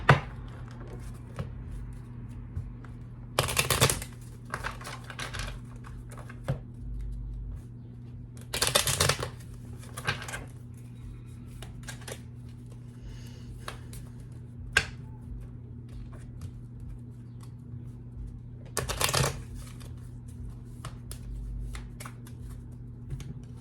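Tarot cards shuffled back into the deck, several short bursts of riffling and flicking that come at uneven intervals over a steady low background hum, close by and with no talk.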